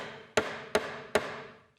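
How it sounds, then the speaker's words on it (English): A hammer driving a nail into a block of wood: three sharp, evenly spaced strikes about 0.4 seconds apart, each ringing briefly before fading, close and clear with no talking. "We're hammering the nail in"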